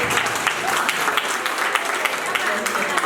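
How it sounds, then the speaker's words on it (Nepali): An audience applauds after a drama performance at a student honouring ceremony, with dense, sustained clapping from a sizeable crowd, steady and lively throughout and mixed with a murmur of voices. "राम्रो लागेको ताली बजाएर सम्मान गरिदिनु होला"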